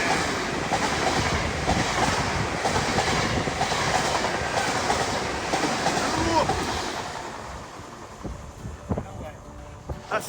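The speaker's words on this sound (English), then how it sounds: "Magnificent rail action on the Teignmouth to Dawlish stretch." A train rumbles past close by on the coastal line between Teignmouth and Dawlish, a steady broadband roar with rhythmic clatter of wheels over rail joints, fading out toward the end.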